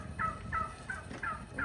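Turkeys gobble in a quick, regular series of five short, rattling calls at moderate distance, with steady low rumbling background noise and no talking.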